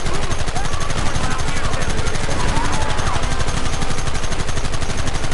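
Sustained, dense gunfire from a Red Dead Redemption shootout, rapid overlapping shots rattling nonstop at full loudness across the whole stretch.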